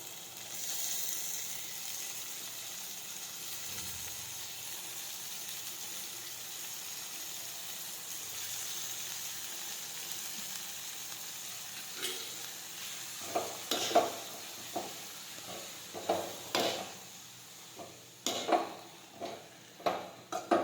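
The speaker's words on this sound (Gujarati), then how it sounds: "હવે આપણે વાસેટીની ભાજી નાખી દઈશું." Vaseti greens hit a pan and sizzle softly, then a spoon stirs them with a run of sharp scraping knocks against the pan that grow louder and more frequent toward the end, with no talking.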